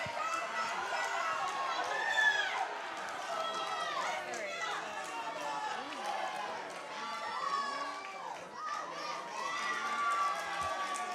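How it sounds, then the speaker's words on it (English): A crowd cheers and shouts at a high school boys 200-yard freestyle swim meet in an indoor pool, with steady excited noise across the whole stretch and a voice talking over it. "The crowd getting excited here watching as Bryson Henry is able to take a lead."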